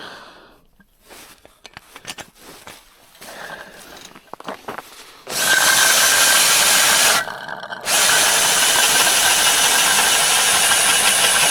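A power drill drives screws to fasten a tent. Scattered handling clicks come first, then the drill whirs loudly and steadily, stops for a moment, and runs again at the same high level to the end.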